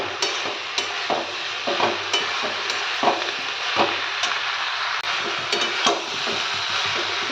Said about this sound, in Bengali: এইবার একটু নাড়াচাড়া করে